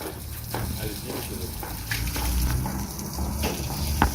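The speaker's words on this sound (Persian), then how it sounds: "الان دستو داریم میشوریم" Hands rinsed under running water, a steady gushing splash with small surges and a sharp clack near the end, with faint background voices.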